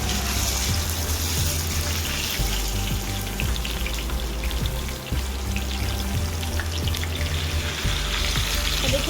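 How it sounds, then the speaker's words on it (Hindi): A mutton raan, a whole leg, frying in a pan gives a continuous loud sizzle and bubbling hiss that stays close and even throughout, with no one speaking. "5 मिनट हम इसकी एक साइड फ्राई करेंगे और 5 मिनट हम इसकी दूसरी साइड फ्राई करेंगे।"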